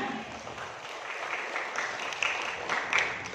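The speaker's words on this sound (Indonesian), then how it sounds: "Tepuk tangan untuk kita semua" Audience applause at an Indonesian business seminar, a steady wash of many hands clapping at moderate distance, swelling slightly toward the end.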